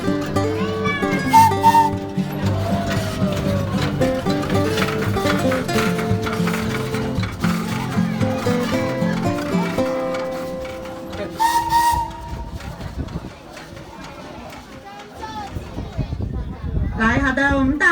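A steam locomotive of the Xihu Sugar Factory narrow-gauge train gives a high, wavering whistle near the start and again midway, over a rumbling engine and people talking nearby.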